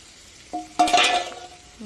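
Meat and cut potatoes stir-fried in a pan, heard as quiet sizzling and a burst of close spatula scraping and tossing in the middle, then settling back to a low fry.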